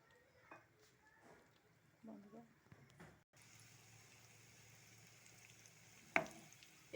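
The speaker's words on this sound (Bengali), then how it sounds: "এবার আমি দিয়ে দেবো বেগুনটা, রেডি করা বেগুন। আমি একটা একটা করে ভাজবো" Eggplant slices frying in oil, a faint, low sizzle under soft clatter and a few handling clicks, with a brief louder clink near the end.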